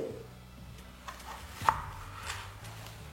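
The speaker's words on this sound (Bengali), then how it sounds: "এবার এই স্লাইস আলুগুলোকে আপনাদের ফিঙ্গার সাইজের মতো কেটে নিতে হবে, ঠিক এইভাবে।" A knife cuts potato slices into thick, finger-size fries for French fries. The cutting is quiet and close, with soft irregular taps on a board and one sharper knock near the middle, over low background hum.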